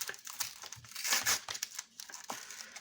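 Foil wrappers of Pokémon card booster packs crinkling and tearing open up close, a continuous rustle with a louder rip in the middle and no talking.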